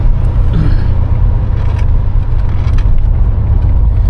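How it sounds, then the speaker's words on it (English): A 1987 Monte Carlo SS Aerocoupe engine idles with a loud, steady low rumble close by, unbroken for the whole stretch with no talking. "Yeah, motor sounds good."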